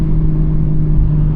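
A car engine runs with a steady, close, low rumble and whir on a cool late night, holding an even level throughout with no talking.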